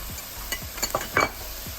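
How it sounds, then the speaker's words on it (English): Ginger sautés in a hot pan for a vegan curried chickpea dish, a soft steady sizzle broken by several quick spatula scrapes and stirs, close and fairly quiet. "Okay guys, so that's starting to saute."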